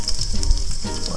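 Hot oil crackles and sizzles briskly in an Instant Pot, a close, hissing fizz with small pops, brief and loud.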